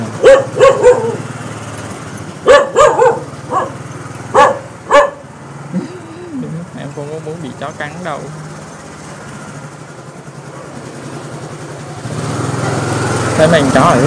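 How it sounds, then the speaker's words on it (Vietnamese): A large dog barks several times in a Saigon market alley, loud sharp barks in bursts, while people talk and a motorbike engine hums in the background. "con chó to quá vậy."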